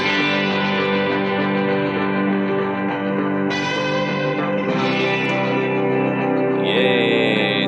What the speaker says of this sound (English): tremolo guitar, very heavily tremoloed.